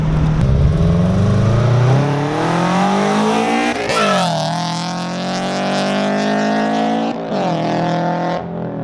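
Loud, raspy full exhaust from an Infiniti G35 engine revving hard, pitch climbing sharply then dropping and surging again, close up with no talking.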